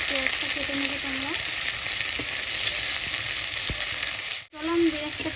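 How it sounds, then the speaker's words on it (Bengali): Finely chopped onions frying in hot oil for birista give a loud, continuous sizzle close by, with stirring and scraping clinks throughout and a brief drop near the end. "এবার আমি দেখো পেঁয়াজগুলো দিয়ে দিচ্ছি"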